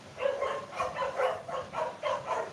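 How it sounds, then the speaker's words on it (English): A dog barks outside in a steady run of about eight evenly spaced barks, moderately loud, with no talk over it. "Yes, my dog on the outside barking."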